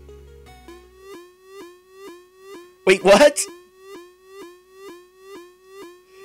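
An ambulance siren in an indie RPG Maker video game wails up and down in a steady repeating cycle, clear and prominent, with a short spoken remark cutting in partway through.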